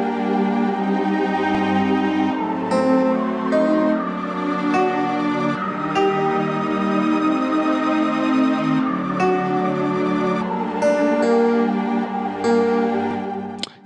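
First-species counterpoint melody played on a keyboard instrument, sustained two-voice harmonic notes moving steadily note against note, loud and continuous with no talking.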